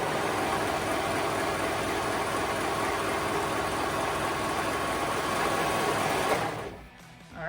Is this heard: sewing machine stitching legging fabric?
yes